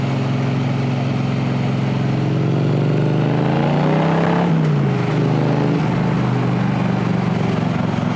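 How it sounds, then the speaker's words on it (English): Motorcycle engine rumbling steadily while riding, with a low droning tone that dips and shifts around the midpoint as speed changes, loud and continuous throughout with no talking. "Nice little bit of rumble from the engine."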